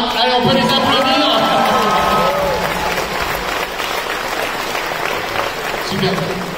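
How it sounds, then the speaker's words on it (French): A stage audience at a Nicky Larson Private Eyes evening event claps for cosplayers, a dense, loud wash of applause with crowd noise and voices over it, holding steady throughout. "Allez, on peut les applaudir."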